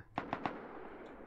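Gunfire in the video game Rust, three quick, evenly spaced shots at moderate distance followed by a fading tail, fairly quiet overall.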